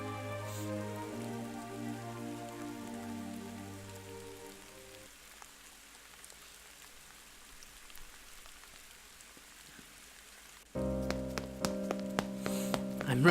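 Rain falling on a street in a video game, a soft continuous hiss that runs under quiet musical tones, which fade partway through before a louder chord enters near the end.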